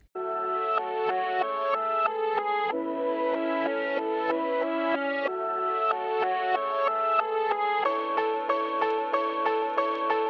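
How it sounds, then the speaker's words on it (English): A reversed keyboard sample, chopped and rearranged into a new note order, plays continuously as a loop of smeared, swelling chords with regular shifts between phrases. "I chopped the audio up and rearranged the order,"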